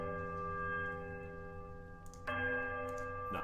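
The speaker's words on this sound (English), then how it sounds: "The first and last of these tolls, apparently, is that of the right hand, which has a distinctive warped tone to it" A video-game bell with a warped, bending tone tolls from a dark dungeon, its long sustained ring laid over a steady low drone, with a second sharp strike entering partway through and then ringing on.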